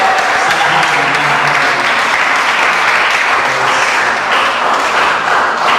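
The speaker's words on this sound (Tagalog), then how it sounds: "Palakpakan tayo ng Amen." A church congregation applauds during a Sunday worship service, a dense, loud, sustained wash of clapping from many hands that holds steady throughout.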